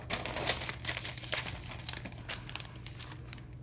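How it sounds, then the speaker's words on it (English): Paper crinkles and crumples in short bursts as it is torn away and balled up while a glue book is being made, close and fairly quiet over a low steady hum. "I'm trying to get rid of this paper."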